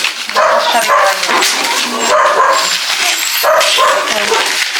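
A dog barks and whimpers in repeated yipping bursts, close and loud, with excited voices talking over it at a Christmas gift opening.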